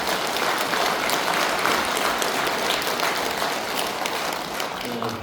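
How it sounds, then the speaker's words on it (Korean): Warm applause from the congregation at a Buddhist dharma service, thick and continuous for about five seconds, with a faint voice beneath it. "형제 여러분에게 뜨거운 찬탄의 박수 부탁드립니다"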